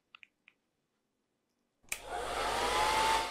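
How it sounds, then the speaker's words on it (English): A few soft clicks precede a hair dryer switching on and blowing with a loud, steady airy whoosh, close by and running alone to the end. "This is a dryer."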